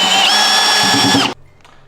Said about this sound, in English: Okay, this one I'm gonna have to drill the rest of the way through.